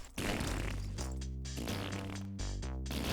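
Cartoonish fart noises from the video game Earthworm Jim HD: several loud, buzzy, pitched blasts in quick succession with short gaps between them.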